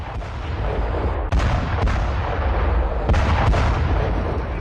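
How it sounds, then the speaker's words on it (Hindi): Air strike bombing on Houthi rebel positions in Yemen, with loud, heavy blasts and booms following one after another over a continuous rumbling roar, several sharp impacts standing out, with no voices. "जोरदार विस्फोट हुआ है, कई धमाके किए गए हैं, एक के बाद एक बम से अटैक किया गया है"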